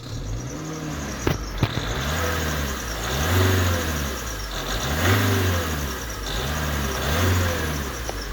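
A Ford Transit Connect engine running steadily with a tapping fault, an even mid-pitched drone with a rhythmic pulsing beat and a couple of sharp clicks, close and continuous with no voices.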